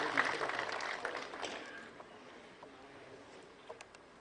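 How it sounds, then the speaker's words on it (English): An audience applauds at an award ceremony for an electronics expo, welcoming a speaker to the stage. The clapping is fairly faint and fills the room at first, then thins out to scattered claps. "Let's welcome him with a thunderous round of applause."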